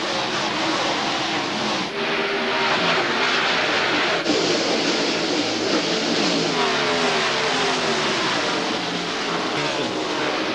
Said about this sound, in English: Mark Martin takes the green flag as they go into the first turn.